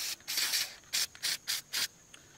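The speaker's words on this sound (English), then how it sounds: "Spray the terminal down." Brake and battery cleaner sprayed from an old but still pressurized aerosol can onto a corroded car battery terminal, a quick series of about five sharp hissing bursts, the first longer and the rest short and evenly spaced, close and alone.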